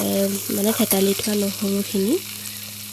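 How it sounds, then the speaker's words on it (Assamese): Onions sizzle steadily as they fry in hot oil in a wok, a close, continuous crackle running beneath a voice, which talks over most of the clip. "এখন কেৰাহীত মই তেল গৰম হ'বলৈ দি পিঁয়াজখিনি প্ৰথমতে ভাজি লৈছোঁ"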